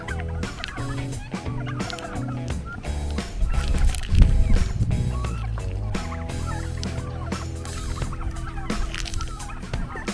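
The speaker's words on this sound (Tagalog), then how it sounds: "Ang ingay ng mga pabo dito, ah." Loud, repeated turkey gobbles ring out close by, overlapping in noisy bursts with a few clucks mixed in.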